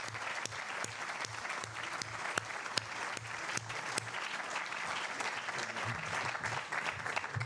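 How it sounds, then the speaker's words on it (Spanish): Audience applause at a panel discussion on liberalism, fairly quiet and somewhat distant, with a mix of sharp individual claps and a soft continuous patter lasting several seconds. "pedirle un gran aplauso a Antonio,"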